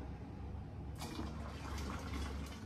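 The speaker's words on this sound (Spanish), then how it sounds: "y le voy a seguir poniendo agua" Water poured into a Salvadoran fresco de ensalada drink, a faint steady background hum that gives way to a brighter continuous splashing pour about a second in, lasting to the end, with no talking.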